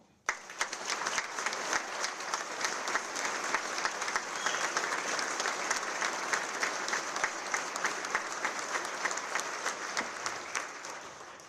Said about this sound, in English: Please join me in a round of applause to thank Governor Noem